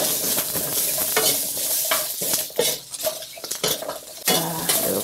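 Scallop adductor muscles are stir-fried in a pan over fairly low heat with little oil. A spatula scrapes and clatters against the metal in quick, irregular strokes over a steady close sizzle.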